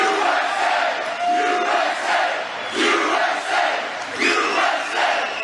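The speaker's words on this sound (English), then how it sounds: "That's a big crowd." At a Trump rally in New Hampshire, a big crowd chants and cheers in rhythmic swelling waves, loud voices rising and falling with scattered whoops.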